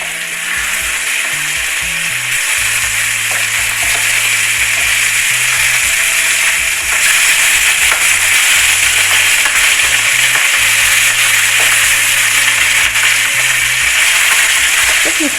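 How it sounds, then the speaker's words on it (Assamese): Pieces of fish fry in oil in a pan, giving a steady, loud, close crackling sizzle that holds without a break throughout. "খুব সুন্দৰকৈ মাছখিনি ভাজি ল'ম"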